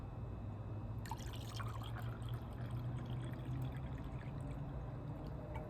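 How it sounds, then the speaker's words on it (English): Water poured into a glass of whiskey: a quiet, continuous trickle and dribble of liquid close by, steady for several seconds with soft drips, no speech. "let's go ahead and pour it in my glass"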